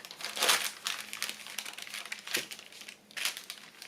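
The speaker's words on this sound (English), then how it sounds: "Part of the fun of using these bags is how crinkly and scrunchily and noisy they are" A small brown paper bag crinkles and scrunches close by as it is handled, a continuous papery rustle with bursts of louder crumpling, no voice.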